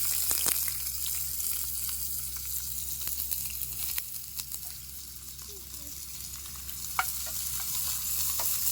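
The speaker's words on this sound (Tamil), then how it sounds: "இந்த எண்ணெயில் நல்லா வெங்காயத்தை வதக்கிடுவோம்" Onions sautéing in hot oil for a ghee chicken masala, a steady close sizzle with a few stirring clinks, continuous and fairly quiet throughout.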